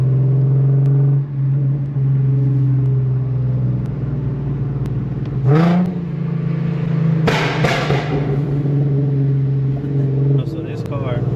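A tuned Infiniti Q50 engine idles with a low hum, then revs twice, the exhaust crackling and popping on the overrun from a popcorn tune; a voice talks over the engine.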